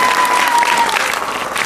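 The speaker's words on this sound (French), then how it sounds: "je propose qu'on l'applaudisse très fort" Loud, dense applause from a crowd, steady clapping filling the whole moment without any voices.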